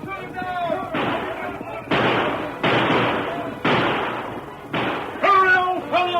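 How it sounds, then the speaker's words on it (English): Gunshots from a band of horsemen in an old radio western, a series of loud sharp blasts in quick bursts fired at a galloping rider, mixed with shouting voices and other dramatic sound effects. "The startled band of horsemen emptied their guns at him"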